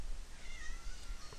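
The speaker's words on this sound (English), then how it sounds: "You're meowing at the lamp!" A cat meows once in the video game Resident Evil Gaiden, fairly faint, over a steady background hiss.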